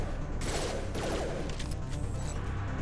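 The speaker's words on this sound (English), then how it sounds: "There's a slam warp explosion." A slam warp biotic explosion in the shooter game Mass Effect 2, a loud bursting blast amid dense gunfire and combat noise.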